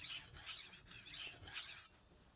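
A Global G-2 chef's knife drawn across an Atoma diamond sharpening plate, four rough rasping strokes in quick succession, close and fairly quiet, then stopping.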